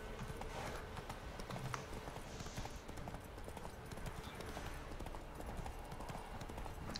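Horse hooves clip-clop at a steady walking rhythm in The Witcher 3, a faint, even patter over low ambient game background with no talk.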